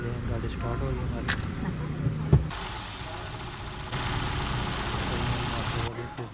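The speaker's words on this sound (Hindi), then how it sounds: "गाड़ी स्टार्ट हो गई हमारी" Honda HR-V 2022 engine idling just after being started, following an oil change in a workshop; a steady low hum runs beneath a man's speech, with a sharp click partway through.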